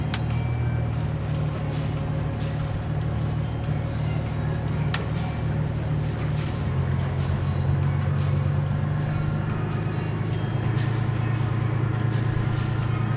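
A boat's inboard engine runs at higher RPM in forward gear, a steady, loud low drone with a slight pitch shift partway through, continuous and close with no talk.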